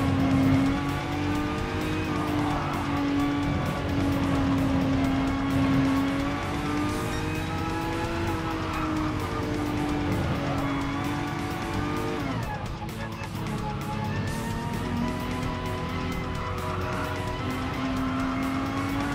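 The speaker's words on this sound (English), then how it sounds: "Definitely sounds like a Gran Turismo car, but slightly improved" Race car in a Gran Turismo-style racing game, engine holding a loud, sustained whine that climbs and drops with gear changes, tires squealing through corners, continuous and close throughout.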